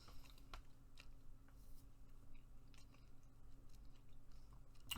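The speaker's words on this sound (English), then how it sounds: "Apologies for chewing sounds. I am eating snacks." Someone chews snacks close to the microphone, with soft irregular crunches and mouth sounds over a quiet background hum.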